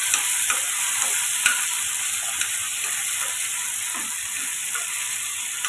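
Dried red chili being sautéed in a pan for a quick tomato-onion chutney, a steady close sizzle with light stirring scrapes throughout, no talking.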